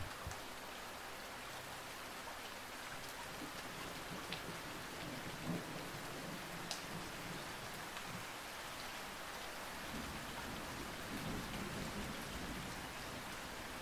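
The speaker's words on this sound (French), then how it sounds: "concentrez-vous sur le rythme simple et répétitif de la pluie qui tombe" Steady rain falls without pause, a soft even hiss of drops on surfaces with faint scattered patters and no voices.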